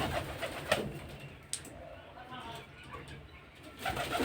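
Pigeons of the Giribaz breed coo in a loft, a low murmuring coo under steady background noise with a few wing flutters and faint voices.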